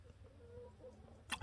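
Chickens cluck faintly on a spring farmstead, with soft, low clucks under ambient outdoor noise and a sharper, louder sound bursting in near the end.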